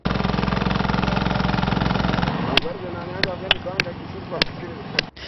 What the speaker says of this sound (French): Place maintenant au vrombissement des moteurs des gros engins de construction.